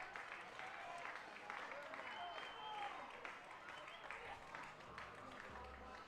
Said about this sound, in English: Crowd getting into it here on a Saturday night in Kokomo.